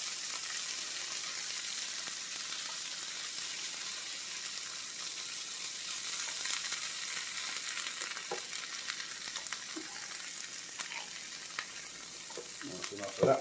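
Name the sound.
tomatoes frying in a pan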